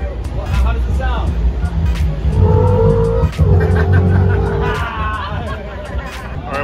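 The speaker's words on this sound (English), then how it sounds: "It's a 2011 BMW Tomatoo V8. Well, how does it sound?" A red 2011 BMW V8 engine revs at a live car show, its rising and falling pitch loud and near but partly buried under crowd chatter and cheering.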